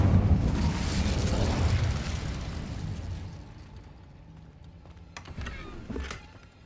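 An Incendio fire spell in Hogwarts Legacy bursts with a loud, roaring whoosh that rumbles and fades over a few seconds, followed by a few quieter sharp pops and thuds.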